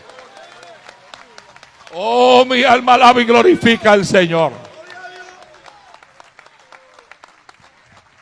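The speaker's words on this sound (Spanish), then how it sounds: "Dale un aplauso a Cristo, que Él se lo merece." A church congregation applauds Christ during a service, a loose patter of clapping in the background while a voice loudly proclaims praise over it for a few seconds, then the clapping continues faintly.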